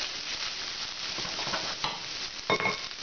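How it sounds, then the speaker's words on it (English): Nasi goreng rice is stir-fried in a wok. A dense, steady sizzle runs throughout, broken by scraping stirs and a sharper clatter near the end, up close and without talk. "This is a good fry."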